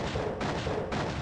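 A mini missile launcher fires in the video game Ghouls vs Humans Multiverse: dense, loud rattling bursts of rapid shots, split by two brief gaps.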